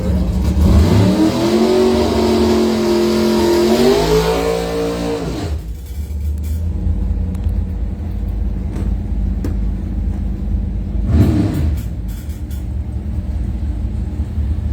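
Drag racing cars rev hard and accelerate at a bracket semifinal. A loud, sustained engine roar rises in pitch, then cuts off and settles into a lower rumble with a brief second surge.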